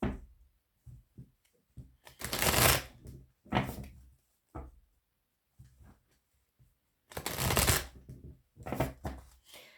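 Oracle cards being shuffled and cut, heard as two long broadband bursts of riffling with several short taps and card handling sounds between them, close and fairly quiet, with no talking.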